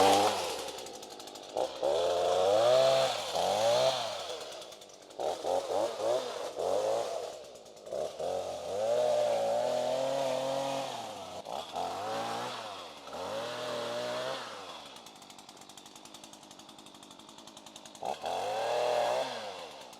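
A chainsaw cuts into a tea tree, its engine revving up and bogging down in repeated surges as it bites the wood, loud and close, with short pauses between cuts.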